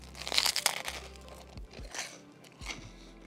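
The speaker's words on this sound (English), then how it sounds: "You're gonna get full crunchy sound." Crunchy bites into air-fried French bread pizza, a few sharp crackly crunches up close at the start, then softer chewing crunches, with no talk.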